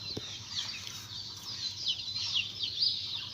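Turkeys on a farm in Assam give short scattered calls and clucks at moderate distance, several birds overlapping over a low hum of background noise.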